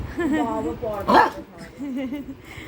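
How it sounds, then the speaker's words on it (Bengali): A dog barks playfully in short, yipping bursts indoors, close by, mixed with a person talking over it throughout. "খেলা করবে বলে হাও হাও করে ডেকে ডেকে"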